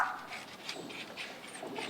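A pedigreed pet dog in Delhi whimpers and pants softly: quiet, close, fidgety canine sounds with faint breathy yips.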